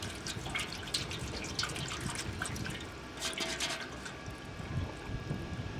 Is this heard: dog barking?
no